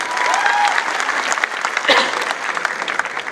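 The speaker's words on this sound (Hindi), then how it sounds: "मैं चाहता हूं उनके लिए भी एक बार जोरदार तालियां होनी चाहिए" Loud, sustained applause from a large crowd at a Hindi-language business motivational event, honoring a mentor figure; thick, continuous clapping fills the room at close range for just over three seconds.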